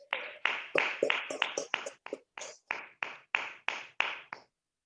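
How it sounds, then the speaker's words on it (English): At a Toastmasters club meeting, a small audience gives a speaker a round of applause, a sparse run of about a dozen distinct, fairly close claps, slightly irregular and then stopping, with no talk. "A big round of gigantic sound of applause to Toastmaster Rajesh"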